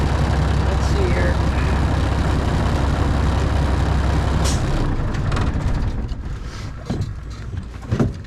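Steady loud air hiss from an open air tank valve on a classic Freightliner truck, continuous for several seconds before dropping off into quieter clanks and handling noise.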